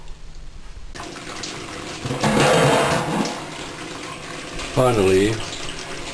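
Wort from a homebrewed strong ale pours from an opened tap beside a whirlpool down into a pump: a loud gushing, splashing rush of liquid that swells and then eases, with a brief spoken word near the end.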